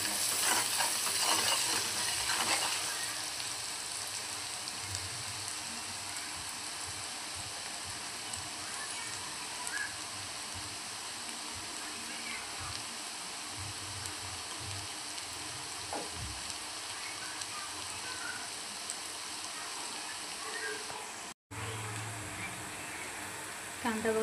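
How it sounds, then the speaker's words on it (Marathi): Onion sautéing in a pan for zunka, a dense continuous sizzle like steady rain, with occasional soft stirring scrapes, close and even throughout. "कांदा छान लालसर होईपर्यंत आपल्याला यात परतून घ्यायचा।"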